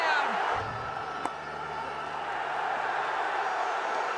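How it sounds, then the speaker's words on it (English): Cricket stadium crowd at a Pakistan versus Afghanistan match roaring after a boundary, a broad sustained wall of cheering and whooping that swells and holds throughout with a single sharp clap-like peak near the start. "Boundary again. Listen to this crowd."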